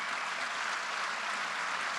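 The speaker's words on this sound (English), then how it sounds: "a round of applause" A crowd applauds steadily at a political event, dense even clapping that holds at one level for the whole stretch with no voices on top.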